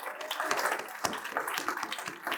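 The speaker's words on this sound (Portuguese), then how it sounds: "Uma salva de palmas para todos." Audience applause for everyone at a gathering, a faint, continuous patter of many hands clapping at a distance with no talk over it.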